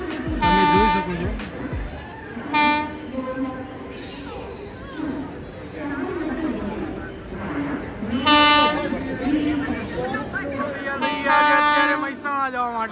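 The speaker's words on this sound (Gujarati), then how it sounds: "તો મિત્રો ફાઇનલી આપણી ટ્રેન આવી ગઈ છે, તમે જોઈ શકો છો।" Yoga Express 19032 arriving at Haridwar station: rumbling wheels and clatter under repeated loud horn blasts, with voices on the platform throughout.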